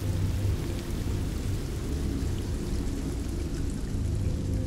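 Rain with thunder, a dense steady roar of falling rain layered over deep rumbling thunder, loud and continuous for several seconds with no voices.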